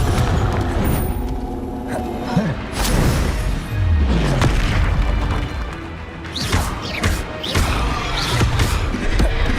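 Spell blasts in Hogwarts Legacy gameplay: a dense, loud run of crashing booms and impacts from the Confringo fire spell, with repeated hits, swooshing magic effects and rumbling low end throughout.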